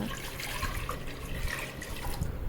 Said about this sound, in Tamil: ஒரு ஹீட்டட் பேனில் 600 ml தண்ணி ஊற்றிக்கோங்க.